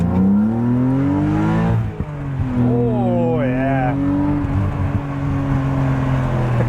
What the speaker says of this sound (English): the noise is so much deeper. It no longer is raspy. It burbles and it pops